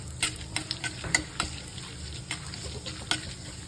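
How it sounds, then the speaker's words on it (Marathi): Cumin, chana dal and urad dal sautéing in a hot pan, a continuous sizzle with frequent quick scraping clicks from stirring, close and fairly loud. "जिरे टाकायचे थोडे आणि इथं चणा डाळ आणि इथं उडदाची डाळ घेतलेली थोडी थोडी अर्धा अर्धा चमचा आहे ते पण टाकायची चांगलं परतून घ्यायचं मस्त"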